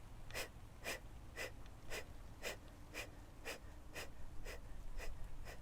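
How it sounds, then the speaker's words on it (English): Yogic breath-of-fire breathing, heard up close: about eleven quick, forceful nasal exhalations in a steady, even rhythm, roughly two per second, over a soft hum of room noise. "for breath of fire"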